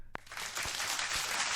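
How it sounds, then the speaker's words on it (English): Crowd applause during a SpaceX Dragon Crew-9 capsule splashdown broadcast, a dense, steady wash of clapping that swells in after a brief thump and holds at an even, fairly distant level. "It almost sounds like fake applause."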